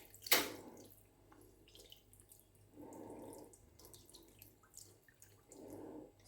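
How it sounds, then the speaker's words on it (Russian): Sauce poured over chicken in a pan, soft faint liquid splashes and trickles in three separate pours spread across several seconds after a brief sharp clink, close by with no voices. "Теперь этим соусом заливаю курицу."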